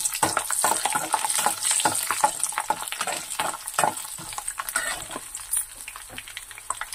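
Dry red chillies and chana dal crackle in hot oil for a tempering, with busy sizzling and irregular stirring scrapes that rise and fall, close and fairly loud, no one talking.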